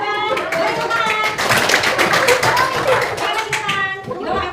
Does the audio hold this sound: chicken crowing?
no